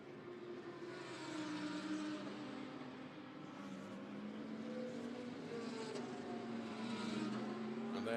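A Porsche GT race car at the ADAC GT Masters race at Oschersleben rolls down the pit lane, its engine a steady, fairly loud drone that shifts in pitch throughout without stopping.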